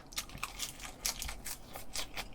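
Crispy fried boneless chicken thigh is chewed up close, a run of loud wet crunches and bites in an uneven rhythm, with no talking.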